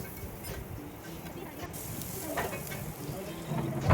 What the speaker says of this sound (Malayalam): ഇതിലേക്ക് അരിഞ്ഞു വെച്ച പച്ചമുളക്, ഇഞ്ചിയും വെളുത്തുള്ളിയും ചേർത്തിട്ട് നല്ലപോലെ വഴറ്റിയെടുക്കുക